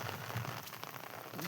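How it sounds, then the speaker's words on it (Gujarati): Quiet, steady rainfall patters on surfaces outdoors where buffaloes are grazing, a soft continuous hiss with faint drops and no voices. "આપણે અહીંયા વરસાદ ચાલુ છે"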